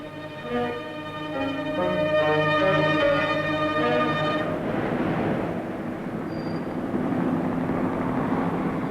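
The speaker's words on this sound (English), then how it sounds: "Whirling over the city, a police helicopter reports traffic movement to the operations center" A police helicopter flies over a city in a 1960s British civil defence film, a steady rotor and engine drone holding loud and constant throughout, with a strong tonal whine that fades into broadband roar partway through.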